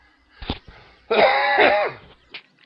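A brief cough, then a longer, harsh throat-clearing cough, followed by a short faint cough near the end; close and alone.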